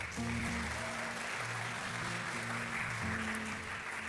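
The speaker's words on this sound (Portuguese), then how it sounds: "Dê um aplauso ao Senhor." Congregation clapping during a church service in praise, a continuous dense patter of hands over sustained keyboard chords, steady and fairly loud throughout.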